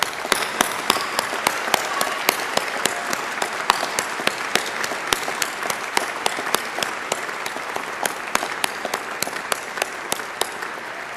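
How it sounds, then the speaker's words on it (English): Sustained applause from a crowd of graduates at a Swinburne university graduation ceremony, steady dense clapping lasting throughout with no talk over it. "Let's applaud them, graduates."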